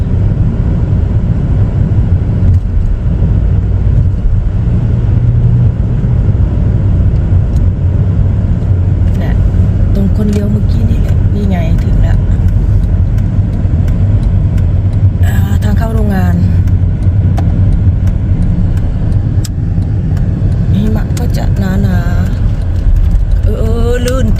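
A car drives along a roadside on a morning commute to work, giving a steady loud engine and road rumble throughout, with a few brighter passing swells and a voice talking over it.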